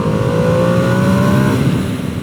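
A 2025 Ducati Panigale V2S sports bike's V-twin engine revs loud and close, a steady throaty drone whose pitch climbs and holds before easing slightly at the end.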